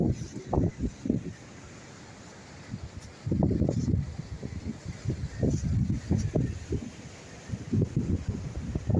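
Strong wind gusts across Gopalpur beach, buffeting the microphone with loud, low, uneven rumbling bursts that swell and drop over several seconds, with no voices.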